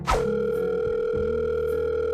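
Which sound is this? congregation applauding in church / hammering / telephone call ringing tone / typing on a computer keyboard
telephone call ringing tone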